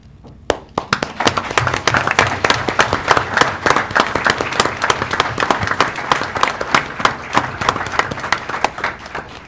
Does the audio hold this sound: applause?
yes